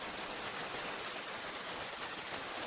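Steady rain falls at night as a dense, even hiss of drops, constant and enveloping throughout, with no voices or other sounds.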